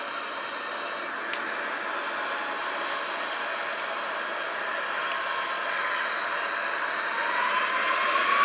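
Boeing 737-800 Next Generation jet engines in the X-Plane 11 flight simulator, a steady, even cockpit drone of engine roar and rushing air that holds at a constant level with no talking.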